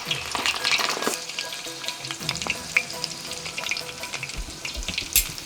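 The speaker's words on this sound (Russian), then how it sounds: "Жир растопился, но я не довожу его до дымка и закладываю бараньи голяшки" Lamb shanks sizzle and crackle in hot rendered fat, with sharp pops and spatters over a constant frying hiss; no one speaks.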